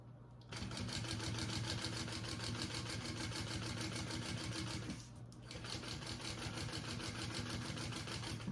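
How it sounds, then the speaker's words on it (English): A sewing machine stitches the bottom seam of a handbag at a steady, close, continuous rate, pausing briefly around the middle before running on again. "I'm going to sew at my seam allowance along the bottom"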